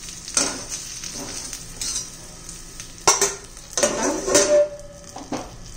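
Masala sizzles in hot oil with eggplant in a pan, punctuated by close stirring scrapes and clinks of a spoon against the metal pot.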